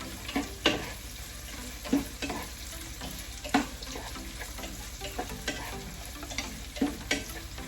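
Tofu, chicken balls and squid balls fry in a pan with a steady oily sizzle, broken by repeated scraping clicks and knocks of a utensil stirring the pieces at close range.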